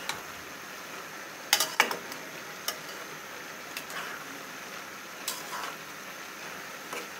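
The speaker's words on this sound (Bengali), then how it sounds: "এখন ঢাকনা খুলে উল্টিয়ে দেব।" Vegetables cook quietly in a pan as the lid comes off and the pieces are flipped, with a couple of sharp metallic clinks and scattered utensil taps over a faint, steady sizzle.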